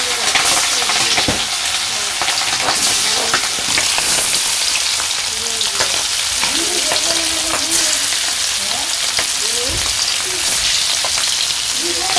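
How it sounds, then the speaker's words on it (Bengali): A dry hilsa fish curry fries in a pan in a village kitchen, giving a loud, continuous sizzle broken by repeated scraping stirs throughout. "আজকে মাছ দিয়ে শুকনো তরকারি রান্না করছি"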